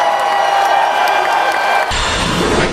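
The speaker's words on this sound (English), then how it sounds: "Can everybody please give her a round of applause," A room of people claps and cheers for a student named Miss Taylor, loud and sustained, with whoops and raised voices over steady applause that dips slightly near the end.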